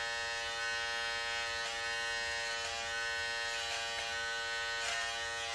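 An electric beard trimmer works close-up around a beard and lip line. Its steady, bright buzz holds without a break throughout, with slight changes in tone as the blade meets hair.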